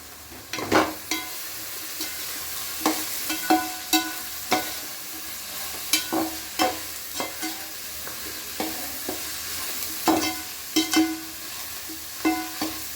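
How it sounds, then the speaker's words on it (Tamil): Chopped onion and coconut fry in a pan for a chicken gravy, giving a steady close sizzle broken by regular scraping stirs every second or so, with no talking. "இப்போது ஆனியனும் தேங்காயும் ஓரளவு ஃப்ரை ஆயிடுச்சு"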